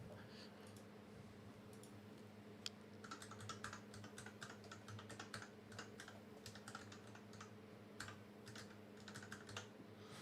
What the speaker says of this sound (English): Gonna hear a lot of clicky clacking while I'm typing